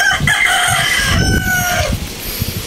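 A bearded muff rooster, a backyard-bred bird, lets out one loud, close crow that rises and holds before trailing off, followed by a few low clucks.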